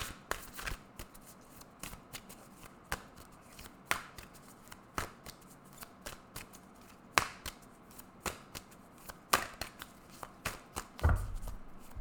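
Tarot cards are shuffled by hand in a quiet room, giving a soft, uneven run of riffles and taps with occasional sharper snaps.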